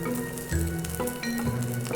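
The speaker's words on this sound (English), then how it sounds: "First, I'm going to fry the anchovies. We want to fry them until they're nice and crispy." Anchovies frying in hot oil in a wok-style skillet for Malaysian nasi goreng kampung, a steady close sizzle with low bubbling bursts and a few light clinks, no talking.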